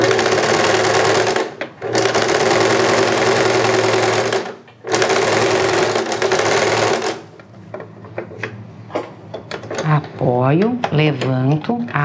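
Sewing machine stitching piping onto fabric: two long, loud, steady runs of rapid motor-driven stitching separated by brief pauses, followed by quieter handling clicks and a person talking near the end.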